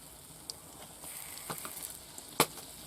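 Batter for flatbreads fries quietly in a pan at a camp during a grouse hunt in Komi, with a soft steady sizzle broken by a few small pops and crackles.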